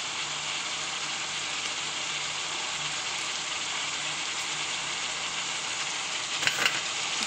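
Tomato paste sizzles in a hot pan, a steady, dense hiss of frying oil that holds evenly throughout, close by, with a faint clink near the end and no talking.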